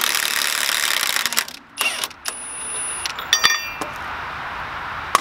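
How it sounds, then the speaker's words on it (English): A ratchet wrench with a 36 mm socket works a large truck hub nut loose: a brisk burst of metallic ratcheting clicks, a pause, then scattered clinks and clicks from the tool, close and clear. "Next we have this massive nut here. We'll have to take this off."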